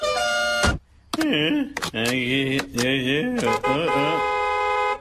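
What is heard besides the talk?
new car horn honking in video game GTA 5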